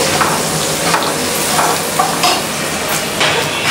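Onions fry and brown in a pan as a loud, steady sizzle with occasional stirring scrapes, close up and continuous, with no voices.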